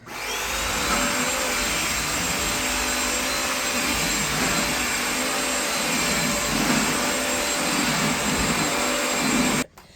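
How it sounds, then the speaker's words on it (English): A loud, continuous whine of a Bissell carpet cleaner sucking up water close by, steady throughout before cutting off at the end. "I release the trigger this next round, and then I suck up as much of the water as I can"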